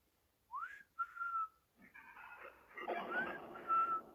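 A person whistles short rising and level notes, a few separate phrases, then a busier stretch with more whistled tones over some background noise.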